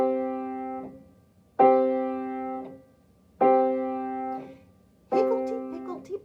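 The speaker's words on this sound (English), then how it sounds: "you can do an open fifth on the piano" A piano plays an open perfect fifth in half notes, four struck chords about a second and a half apart, each ringing and decaying, the last one joined by a brief voice.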